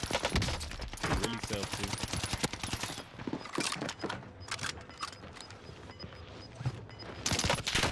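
Dense automatic gunfire and rapid shot bursts in a Call of Duty Warzone match on Rebirth Island, loud and near, with a player briefly talking over the shooting.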